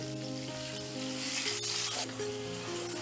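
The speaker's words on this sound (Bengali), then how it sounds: "এবারে গ্যাসের আঁচটা বাড়িয়ে দিয়ে আলুটা আমি লাল লাল করে ভেজে নেব" Potato pieces sizzle steadily in hot oil over a raised gas flame, a soft continuous frying hiss with occasional stirring scrapes, while a faint steady hum sits underneath.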